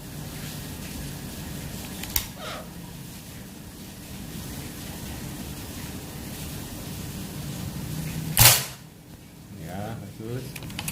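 A Predator Mini Phyton-L air rifle with a 40 cm seamless barrel fires one sharp, loud crack late in the clip, standing out against steady outdoor background noise, with a fainter tap earlier.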